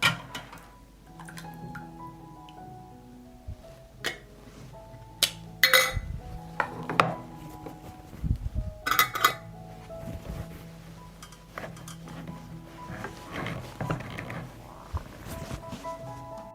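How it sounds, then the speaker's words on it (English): Glass jars of hot blueberry dressing are capped with sterilized lids, giving scattered close clinks, taps and metallic knocks against glass at an uneven pace in an otherwise quiet kitchen. "Immediately close the jar with sterilized lids."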